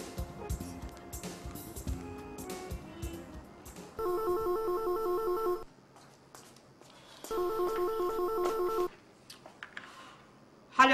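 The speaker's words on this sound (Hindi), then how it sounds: "अगर मैं इनके घर के नंबर पे फोन कर लूं" Telephone keypad tones sound as a home number is dialed, followed by two long electronic ringback bursts from the handset, close and clear, with faint background noise between rings.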